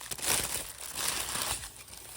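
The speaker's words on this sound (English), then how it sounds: "Let's unwrap these tubs." Plastic packaging around polygel nail product tubs crinkles and crackles close up in soft, irregular bursts with no voices.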